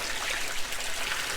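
Water gushes out of a well pump hose in a steady, close rushing splash, brief and continuous with no talking.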